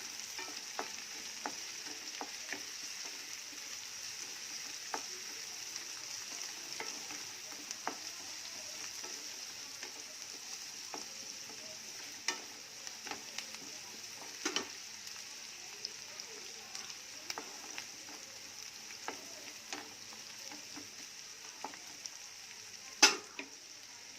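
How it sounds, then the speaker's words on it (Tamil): Onions, green chilies and curry leaves sauté in a pan for tempered rice, a soft continuous sizzle under a scattering of light scrapes and taps from stirring, ending in one sharper knock. "எல்லாத்தையும் ஒன்றா வதக்கிடுங்க."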